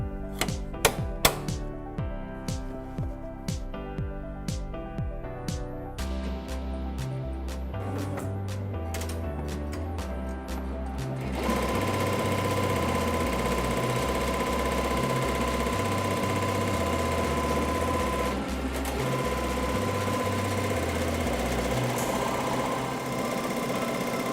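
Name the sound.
embroidery machine stitching on a hooped backpack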